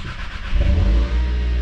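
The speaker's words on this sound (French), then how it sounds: "Bon bah ça démarre, ça a l'air de fonctionner." A Volkswagen 2.0 TSI engine, freshly fitted with a new high-pressure fuel pump, cranks and fires up, then settles into a loud, steady idle close by.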